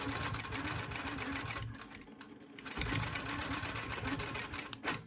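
A longarm quilting machine stitching through a vintage quilt top, its needle running in a fast steady hum, with a brief pause midway before the stitching picks up again, close and moderately quiet.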